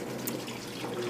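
GE washing machine recirculation pump pouring water over a twin-size comforter in the drum, a steady close splashing and trickling flow with faint dripping, continuous and without talk.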